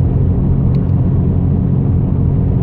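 Dodge Challenger R/T in Plum Crazy driving along the I-10 highway, heard from inside as a steady, loud low engine and road rumble that holds constant without a break.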